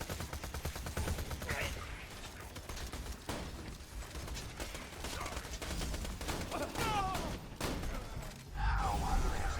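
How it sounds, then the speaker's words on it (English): Enemy gunfire in Borderlands 2, a dense spray of rapid shots and mechanical clatter in a tight firefight, under a player's talk. "there's a lot of enemies shooting at me"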